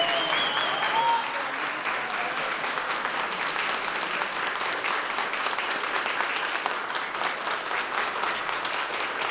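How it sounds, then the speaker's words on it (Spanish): Sustained applause for a couple celebrating their golden wedding anniversary, a dense steady clatter of many hands clapping that fills the whole stretch at an even level. "vamos a darles un aplauso, muchas felicidades"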